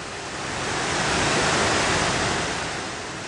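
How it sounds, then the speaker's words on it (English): Water plunging at great pressure at Thiruparappu waterfall in Kanyakumari, a dense, steady roar filling the whole clip at close range, swelling slightly in the middle, with no voices. "The water falls in a great pressure"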